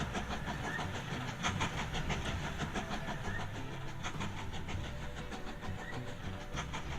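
A train runs along the tracks in the Mashinky video game, giving a steady rolling rumble with repeated rhythmic clacks and a faint hiss, moderately close and uninterrupted, with no voices.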